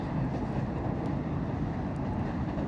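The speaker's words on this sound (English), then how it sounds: "There's a 7 train over there." A New York City subway 7 train rolls past across Flushing Meadows Corona Park, a steady low rumble from a distance with no break over its short length.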